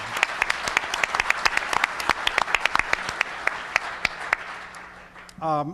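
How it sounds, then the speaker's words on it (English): Scattered, fairly loud clapping from an audience at a legal program, with individual claps standing out in an uneven patter throughout, before a single voice starts speaking at the very end. "How about a round of applause for Jay Bybee and his program committee for putting on really an outstanding program."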